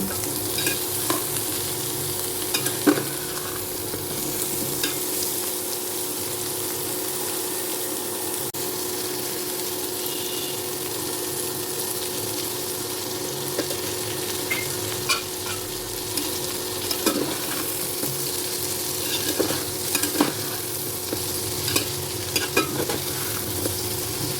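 Raw jackfruit frying in a pan with turmeric and salt, a steady close sizzle with scraping stirring strokes recurring throughout, no voices.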